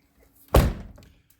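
A car door on a 1984 Mercedes 500SEL swings shut with a single solid thunk, close and fairly loud, followed by a brief fading rattle.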